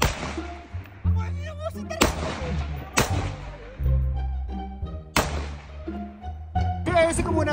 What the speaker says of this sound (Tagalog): Kagrabe nga naman talaga ang lakas ng putok na itong mga baril ni Drex.